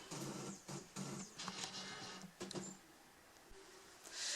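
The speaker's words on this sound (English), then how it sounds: "We'll now print direct on the fabric." A printer feeds and prints directly onto fabric glued to card, loaded through the back feeder; repeated mechanical passes and whirring carriage strokes run steadily for several seconds, fairly close and moderately loud, with no talking.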